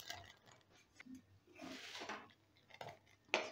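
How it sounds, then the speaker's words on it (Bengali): Fried cashews and raisins go into a pot of thickened milk for paneer payesh, with a few soft clinks and scrapes of a spoon against the pan in a quiet kitchen. "এবারে দিয়ে দিচ্ছি ভেজে রাখা কাজু কিশমিশ।"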